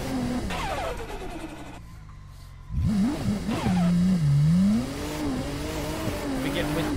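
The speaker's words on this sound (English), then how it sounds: "The little turbo flutters. Definitely an amazing sounding car." A car in a racing video game drifts down the Mt. Akina pass, its engine revving steadily and rising in pitch, with the small turbo fluttering, while a voice talks over it throughout.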